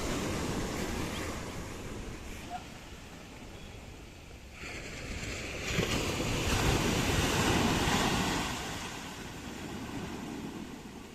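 Ocean waves surge and wash steadily onto a beach where fishermen haul nets in the sea, with wind buffeting the microphone and a swell building near the middle.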